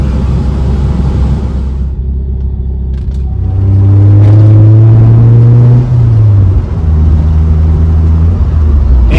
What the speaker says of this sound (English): it feels good driving this bitch again